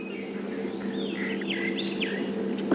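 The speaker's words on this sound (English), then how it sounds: "we can hear quite a few fork-tailed drongas chirping around" Fork-tailed drongos chirp around a safari vehicle near elephants, with several clear whistled calls and sweeping notes rising over a steady low engine hum, moderately near and without talk.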